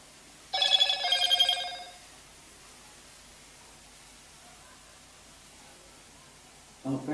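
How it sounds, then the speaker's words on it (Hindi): A mobile phone ringtone plays a short bright electronic ringing burst, loud and close, in a quiet room during a class 12 physics lesson, then silence follows before a brief voice at the end. "आपका रिंगटोन बहुत ही बेकार है।"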